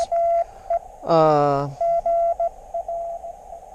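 Steady on-off beeping tones, like Morse code from a ham radio receiver on coax, with a brief burst of warbly voice-like noise in between.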